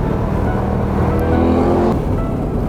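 A Chevrolet Corvette C8 (2020) at speed on the Monticello Motor Club race track, its engine a loud, steady close roar that rises slightly in pitch, with no voices over it.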